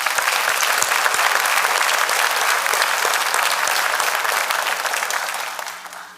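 An audience at a pharmacy white coat ceremony breaks into loud, dense applause that holds steady for several seconds before thinning out at the end.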